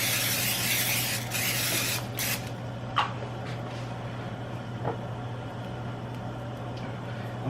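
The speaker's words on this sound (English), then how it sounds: "I'm going to use the olive oil spray" Olive oil cooking spray hissing into a skillet in a home kitchen, a loud continuous spray for about two and a half seconds, then quieter kitchen background with a couple of small knocks.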